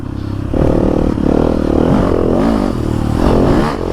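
A loud motorcycle rides close by, its engine rumbling and rising in a few throttle swells over about four seconds, with light rattling on top.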